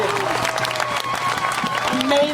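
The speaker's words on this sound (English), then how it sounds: "these guys here really need a round of applause" Applause from a youth-led Black Lives Matter protest crowd in Amherst, outdoor clapping and light cheering mixed with voices talking over it.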